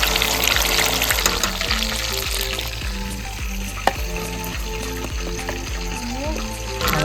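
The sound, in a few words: chicken lollipops deep frying in oil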